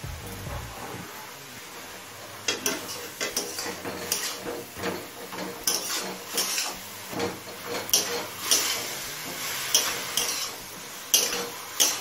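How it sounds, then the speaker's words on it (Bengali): Beetroot and carrot with salt, red chilli powder and turmeric being sautéed in a pan for vegetable chops, with irregular scraping and clinking of a spatula against metal over a faint low sizzle. "নুন আর মশলা দিয়ে আরো মিনিট 5 কষিয়ে নিয়েছি।"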